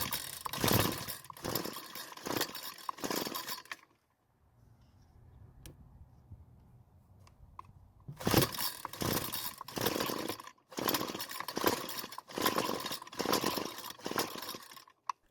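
A string trimmer's small engine being pull-started, with bursts of rapid rope yanks and sputtering that never catch, separated by a quiet stretch of faint low rumble between attempts.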